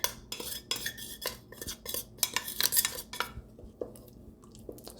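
Guyanese dhal being stirred in an Instant Pot, with a series of close metallic scrapes and clinks of a spoon against the pot, rhythmic and fairly loud at first, then sparser, no talking.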